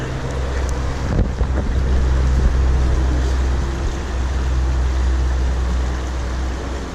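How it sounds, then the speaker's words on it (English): A rapidly flowing stream at low elevation along the Appalachian Trail near Front Royal, a loud, steady rushing roar of water with wind buffeting the microphone. "Rapidly flowing stream, so we must be at a pretty low elevation here."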